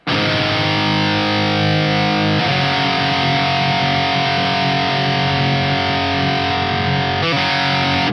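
Electric guitar played through a Kourbis Cockney Riot pedal, a modded JCM800-style preamp, with added compression and gain: dense, heavily distorted sustained chords ring loud and continuous, with brief pick attacks near the start and toward the end.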